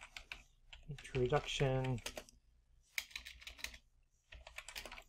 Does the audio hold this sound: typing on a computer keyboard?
yes